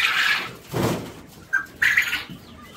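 Young quails and chicks in a pen behind metal mesh give loud, close chirps and calls in separate bursts with short pauses between them.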